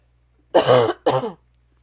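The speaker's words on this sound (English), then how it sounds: "you're going to hear me coughing" Two harsh, throaty coughs in quick succession, close and loud, with a short pause between them and quiet before and after.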